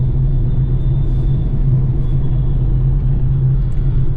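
A car driving in road traffic on a Delhi NCR expressway, heard from inside as a loud, steady low rumble of engine and road noise that holds constant throughout without talk.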